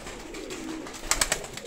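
Armenian pigeons coo softly in a loft, a low murmuring coo followed by a few short, slightly louder burbling notes near the end.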